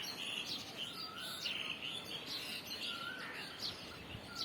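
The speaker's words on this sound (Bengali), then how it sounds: "এই যে পাখিগুলো আসছে," Birds chirp and tweet as they fly in and settle on a perch outdoors, a steady scatter of small calls at moderate distance over a soft ambient hiss, with no voices.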